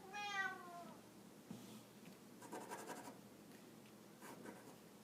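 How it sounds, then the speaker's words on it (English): A pet cat meows once at the start, a clear falling cry, followed by faint scratching and scraping sounds in a quiet indoor room. "I don't know if you can hear my cat meowing in the background."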